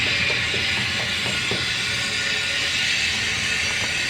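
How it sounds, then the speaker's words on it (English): A freight train rumbles past with a steady roar and hiss, faint rhythmic clacks of wheels on rails showing under the continuous noise. "Look, this train's moving."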